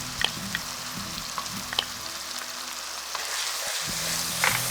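Food sizzles in a pan for vegetable pulao as spices are stirred in, a steady close frying hiss with a few utensil clinks and scrapes, no talk.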